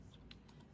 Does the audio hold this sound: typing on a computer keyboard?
yes